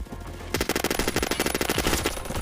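Rapid automatic gunfire in a streamed video game, a fast burst of evenly spaced loud shots after a brief quieter lead-in, close and dominant.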